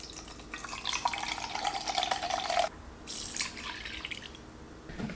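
Half a cup of soy sauce poured into a container for a Korean soy salad dressing, a steady trickling stream for nearly three seconds that stops, then a softer liquid spatter, with no talking.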